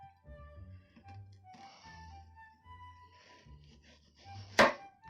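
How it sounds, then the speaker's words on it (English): A knife cuts through a peeled onion on a cutting board for a bloomin' onion, making one sharp, close chop near the end over a quiet, humming background. "Now we're going to take this and we're going to cut it into 4s"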